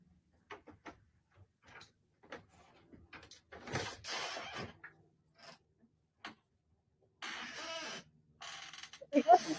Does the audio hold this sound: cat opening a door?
yes